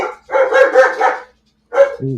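Dogs bark loudly and close up at a motorcycle outside, a rapid burst of barks, a pause, then another bark and a short whine, with no talking over them.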